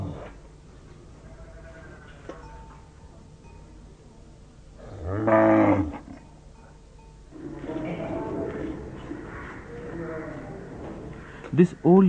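Cows at an old age home for cattle, Madras Pinjarapoli, give a loud low moo near the middle, with more faint lowing and farm noise around it while someone talks throughout.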